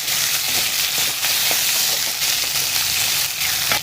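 Onions, tomatoes and coriander sautéing in a pan, a loud continuous close sizzle and hiss with scattered pops and light stirring throughout.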